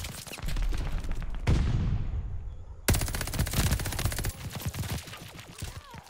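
Strafe-run gunfire in Call of Duty: Vanguard: dense, loud bursts of rapid automatic shots and heavy impacts roll on for several seconds, with a short pause before another sustained volley.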